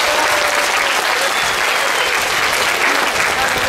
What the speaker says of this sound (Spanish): Un aplauso para